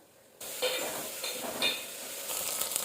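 Green chilies dropped into hot oil with dried fenugreek leaves, a sudden loud sizzle that keeps crackling steadily, with a few stirring clinks of a utensil against the pan.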